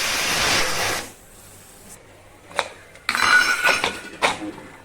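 A pressure cooker holding papaya chicken curry is opened after steaming. A rushing burst comes first, then a pause, then sharp metallic clinks and clattering of the lid and pot, fairly close and without talk.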